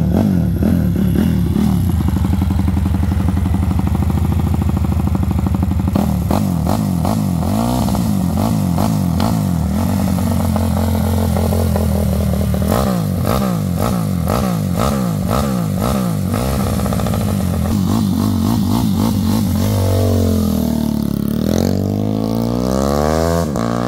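A motorcycle engine fires up and revs hard, loud and close, with repeated throttle blips and rising and falling surges over a steady rough idle, on a test track in Marília, São Paulo.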